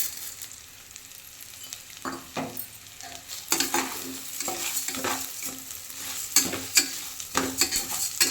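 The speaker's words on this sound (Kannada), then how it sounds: "ಇವಾಗ ಹೆಸರು ಕಾಳು ಹುರಿದಿಟ್ಕೊಂಡಿದ್ದಲ್ಲ, ಈ ಹೆಸರು ಕಾಳನ್ನ ಇದರೊಳಗಡೆ ಹಾಕ್ಕೊಳ್ತಾ ಇದ್ದೀನಿ" Roasted moong beans tipped into an oiled frying pan and stirred, with a soft sizzle underneath and a run of scraping, rattling stirring strokes that grow louder and more frequent toward the end.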